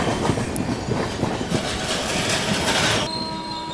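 A goods train rolls past close by, loud rumbling clatter of wagons with rhythmic wheel clicks and a faint squeal, continuing steadily before easing slightly near the end.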